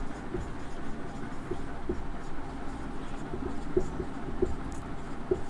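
Pen scratching out notes during a Class 10 physics lesson on the magnetic effect of electric current, a soft continuous scrape with faint taps over a dull room hum.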